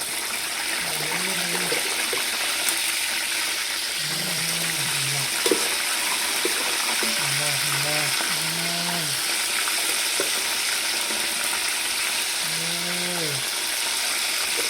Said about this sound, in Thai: มาทดสอบกันเนาะปลาตัวหนึ่งเบิ่ง โอ้น้ำมันได้เรื่องแล้ว